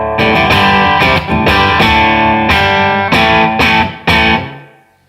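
An electric guitar plays through the British clean channel of a Blackstar HT Club 50 MkII amplifier, loud and full, with rhythmic strummed chords whose last chord rings out and fades.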